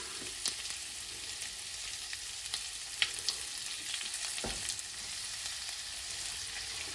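Cabbage fries in olive oil with garlic powder, giving a steady close sizzle and crackle broken by a few sharp pops and stirring scrapes.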